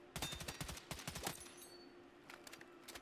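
Bursts of rapid automatic fire from a Tavor rifle shot from the hip in Battlefield 6, a dense rattling volley that pauses briefly and then resumes in a shorter string, quiet and without speech.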